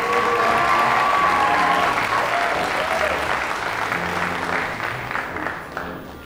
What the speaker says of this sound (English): Please give a Washington High School round of applause to Miss Ava Radel and Mr. Vince McConnell.